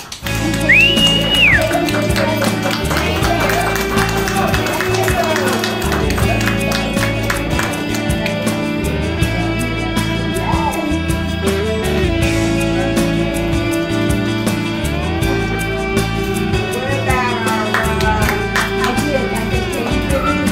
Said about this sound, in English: Round of applause, take a bow.